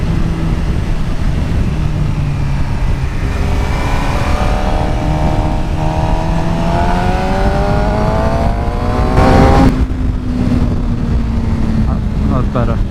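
A Suzuki GSXR 600 motorcycle with a Yoshimura exhaust screams at full throttle, its engine note climbing steadily through the revs under heavy wind roar, loud and continuous, with a brief shift-like break near the end.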